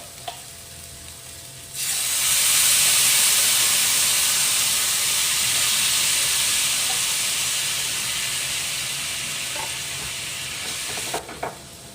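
Curry sauce poured into a stir-fry in a hot pan sets off a loud, steady sizzle after a quiet start, holding for about ten seconds with a slow fade before it cuts off.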